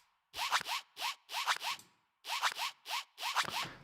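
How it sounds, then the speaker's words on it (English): A clothing zipper pulled in quick repeated strokes, caught on an acoustic singer-songwriter recording: bursts of two or three rasping zips, a pause, then more, close and crisp with no voices. "that is literally a zip. I can even hear it."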